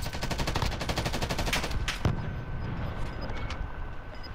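Gunfire during a shootout in an extreme-mode Resurgence match of a battle royale video game, with rapid automatic bursts in a steady rhythm for the first two seconds followed by scattered, more distant single shots.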